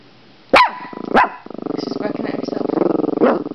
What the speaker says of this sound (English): She's barking at herself.